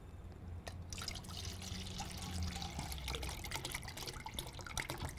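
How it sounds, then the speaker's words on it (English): Water pours steadily into a container holding 2.5 cups of almonds, a continuous close splashing and trickling wash that runs without pause and without talk. "The water is splashing everywhere."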